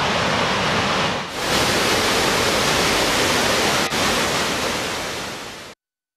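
Muradiye Waterfall, swollen by spring meltwater, roars in a loud, dense, unbroken rush of falling water, close and constant, then cuts off abruptly.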